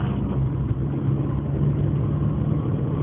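Steady low engine rumble inside a car while driving to dinner, continuous and fairly loud with no talking over it.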